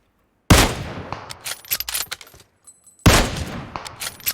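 Gunfire in the mobile battle royale game PUBG Mobile: two loud, sharp bursts, each followed by rapid rattling shots and scattered impacts, with a short quiet gap between them.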